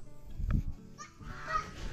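Farm fowl, apparently geese or turkeys, give several short honking calls over about two seconds, fairly close, with a loud burst near the middle and rustling background noise.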